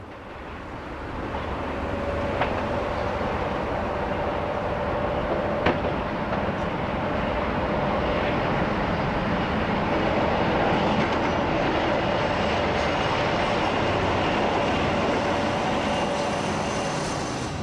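A Class 47 diesel locomotive drones as it pulls away from Eastleigh, a heavy continuous engine roar with a steady hum that slowly swells and then eases off.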